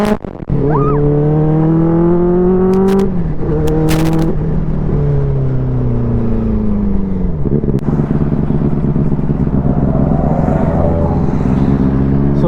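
A Benelli 600i motorcycle cruises in sixth gear through Coorg, its engine a loud, steady multi-harmonic drone up close, with the pitch sagging and recovering a few times as the throttle shifts.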